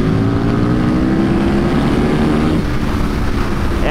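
A roughly 20-year-old Aprilia RSV Mille twin-cylinder motorcycle accelerates on open road, its engine note climbing steadily and then shifting partway through, heard close over constant rushing wind noise with no talking.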